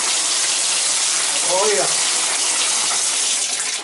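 Steady broadband water rushes from a leaking tub and shower valve left in the shower position, running continuously and loud, with a short spoken interjection partway through.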